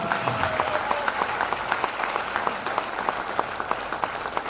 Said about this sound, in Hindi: एक जोरदार ताली होनी चाहिए